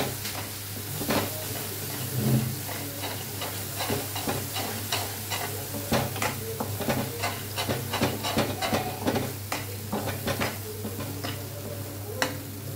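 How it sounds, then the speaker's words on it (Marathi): Masala for matar paneer frying in oil in a pan: a constant hiss and sizzle with frequent quick scraping stirs and clinks, close and alone with no voices. "छान असं फ्राय करून घ्यायचं आहे आपल्याला."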